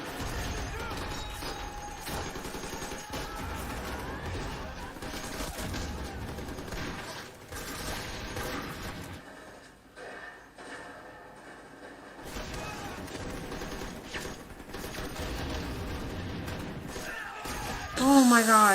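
Heavy rapid gunfire from a war TV series, dense sustained bursts with a brief lull midway, mixed with shouting and dramatic sound, while people talk and react over it throughout.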